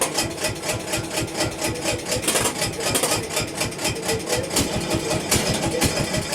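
A Cub Cadet 86 tractor engine running after a cold start in March, with a steady, rapid, slightly rough mechanical chugging rhythm heard close up and continuous throughout.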